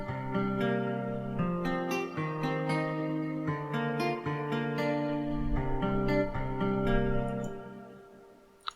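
Stock Nexus guitar preset playing simple chords in a strum pattern for a chill ambient track, with steady plucked strums ringing in sequence, close and clear, fading at the end.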